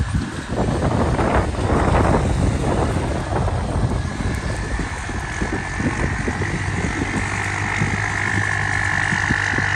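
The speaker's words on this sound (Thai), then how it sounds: "ลมแรงนะเนี่ย" Strong wind buffets the microphone on open farmland by a rice field, a loud continuous roar with gusting rumbles throughout.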